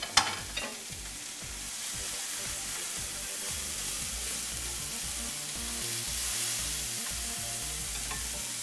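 Onion sizzles and fries steadily in a hot pan, a continuous crackling hiss at even loudness with a few sharper clicks from stirring near the start, no voices over it.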